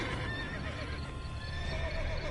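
A Witcher 3 unicorn gives a short whinny amid a constant low game ambience, with light hoof clopping mixed in.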